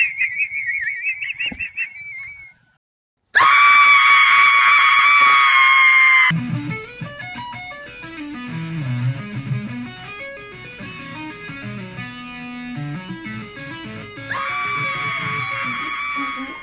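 A person screams in loud, harsh, sustained bursts, broken by a short silence and mixed with brighter tonal passages, the shrieks returning strongly near the end.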